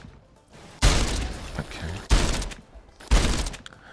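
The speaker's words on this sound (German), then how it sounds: "wenn man zum Beispiel so ein Fass abschießt, dann explodiert alles drumherum" Gunfire and exploding barrels in the VR shooter Dick Wilde 2 on PlayStation VR: three loud, sudden blasts roughly a second apart, each decaying into rumbling debris, with a brief spoken word between them.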